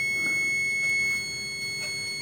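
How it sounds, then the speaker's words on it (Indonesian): A continuity tester buzzer sounds while a condenser microphone is checked for faults, a steady, sustained high tone holding through the whole stretch alongside faint background noise. "Biasanya kalau kayak gini ke buzzer ini bakal nyala deh kayaknya."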